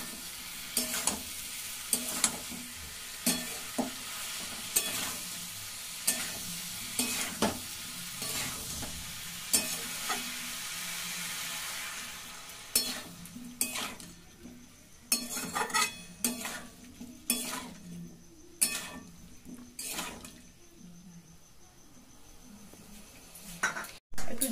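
Cauliflower curry being stirred and mixed in a pan, with a steady frying sizzle under repeated close scrapes and knocks of a spatula against the metal, fading quieter in the later part.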